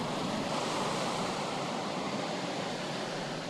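Rough ocean waves on an island shore where red crabs head into the sea, a dense, constant roar of surf without distinct breaks or voices.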